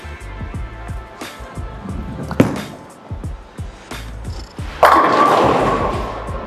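A urethane bowling ball thrown as a test shot down the lane at a bowling alley, with low rumbling rolls and thuds, a sharp knock, then a loud crash of pins and clatter near the end.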